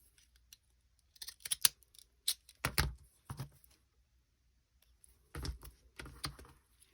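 Scissors snipping paper for a journal page, a few quick crisp cuts in small clusters with pauses between, close and fairly loud in an otherwise quiet room; no talking.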